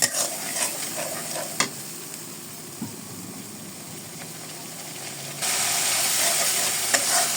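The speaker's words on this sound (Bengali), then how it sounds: "মশলা কষানো হয়ে গেছে, ডাটাগুলো দিয়ে দেবো।" Spices for a brinjal-potato curry sauté in a pan with a steady, close hiss and crackle that grows noticeably louder toward the end.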